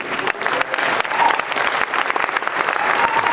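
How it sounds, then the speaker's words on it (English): Boxing arena crowd at the Floyd Mayweather vs. Miguel Cotto fight breaking into loud, dense applause that swells slightly and holds for a few seconds. "So let's give both fighters a big applause for keeping the sport clean."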